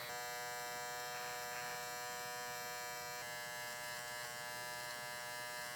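Andis GDX electric hair trimmer framing a haircut, a steady close buzzing hum with slight shifts in pitch as it moves along the hairline.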